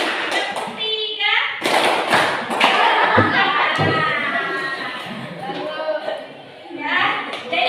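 A class of students claps in counted patterns led by a teacher, bursts of clustered claps and thumps mixed closely with the teacher's speech and children's voices.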